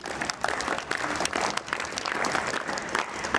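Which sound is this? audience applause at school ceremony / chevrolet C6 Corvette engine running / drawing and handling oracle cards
audience applause at school ceremony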